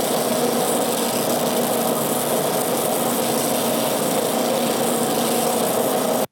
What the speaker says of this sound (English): I'm gonna sand it before I cut it off